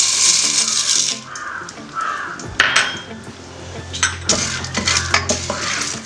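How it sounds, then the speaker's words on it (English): Corn kernels stirred in a metal pot for a popcorn snack, giving scraping and clinking utensil sounds against the pot with a soft sizzle beneath, close and fairly loud, with intermittent sharper knocks. "And stir it for a while."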